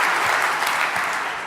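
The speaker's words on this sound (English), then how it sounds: "Round of applause for Sanjay." An audience applauding a presenter at a tech conference session, a dense, even wash of clapping that fades slightly over a brief moment.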